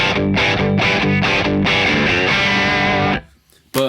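Loud distorted chords from a single-coil electric guitar through a Victory Sheriff 22 amp, strummed in a rhythmic pattern, then cut off, leaving a brief lull before one more sharp note.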